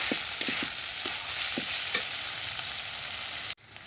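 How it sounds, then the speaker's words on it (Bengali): Spice masala for a fish curry fries steadily in a pan, a continuous close sizzle with soft scraping stirs every half second or so, cutting off abruptly near the end. "মশলাটা আমাদের এখানে খুব ভালোভাবে ভাজা হয়ে গেছে"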